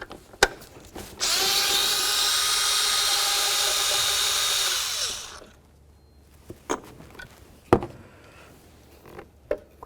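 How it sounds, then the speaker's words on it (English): A power tool whirs steadily for a few seconds while backing out bolts from the throttle body on a 2008-2012 Jeep Liberty, then winds down, followed by sharp metallic clinks and handling clatter nearby. "Remove these 4 bolts."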